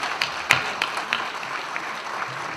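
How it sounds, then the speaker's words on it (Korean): An audience at a political gathering gives a smattering of applause: a few sharp, separate hand claps at irregular intervals over a low murmur of the room. "강세일 최고위원님께 감사의 박수 한 번 보내주시고요"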